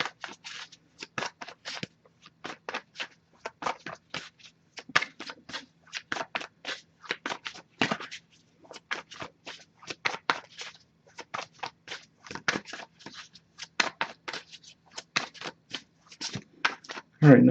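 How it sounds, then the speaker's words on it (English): Tarot cards being shuffled by hand in a series of quick riffling bursts and snaps, close and fairly quiet, continuing steadily with brief pauses between shuffles. "I'll give it a couple more shuffles."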